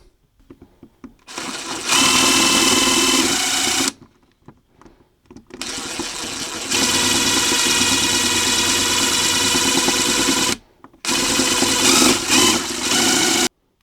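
Power drill driving a wood screw with no pilot hole, giving three sustained loud whirring runs separated by brief stops, with no talking.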